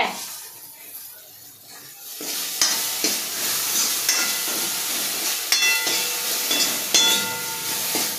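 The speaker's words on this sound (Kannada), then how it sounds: "ಉಪ್ಪು ಹಾಕಿ ಬೆಂಡೆಕಾಯಿ ಫ್ರೈ ಮಾಡ್ತಾ ಇದ್ದೀನಿ" Okra fries in a pan with salt, giving a steady close sizzle with scattered sharp pops and crackles and occasional scraping stirs.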